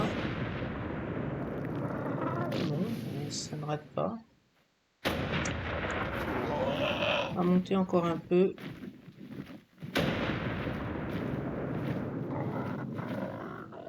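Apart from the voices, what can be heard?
explosions near volcano in video game Ark Primal Fear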